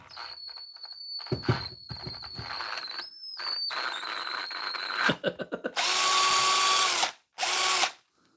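Draper cordless drill converted to a DeWalt Flexvolt battery whines at high speed, spinning up in short bursts and then boring into material in two long loud runs with a pause between.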